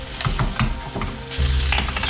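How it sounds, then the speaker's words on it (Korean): Cooked rice stir-fried in a hot pan, a steady loud sizzle with scraping and stirring strokes from a utensil, heard up close throughout. "약간 꼬들꼬들하는 그런 볶음밥이 되죠"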